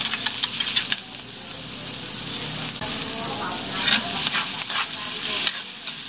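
Garlic and onion sautéing together in a pan after ginger has browned, for a dinuguan pork blood stew, with loud continuous sizzling and repeated scraping stirs of a spatula close by.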